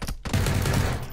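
Gunfire in PlayerUnknown's Battlegrounds: a dense, loud burst of rapid automatic shots with heavy low-end boom, close and continuous over about a second, with no talk.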